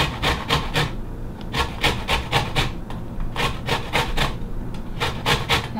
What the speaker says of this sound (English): So I'm zesting one of my lemons fresh off the tree.